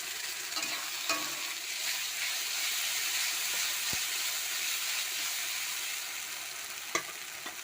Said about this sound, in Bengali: মশলা বাটাটা দিয়ে দিলাম